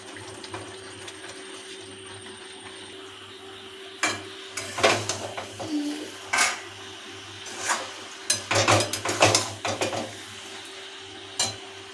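Fried vegetables tipped into spiced oil in a pan for a paneer mixed-veg curry, then stirred: a low steady hum, then from midway irregular bursts of spoon scraping and clatter against the pan, close by and with no talk.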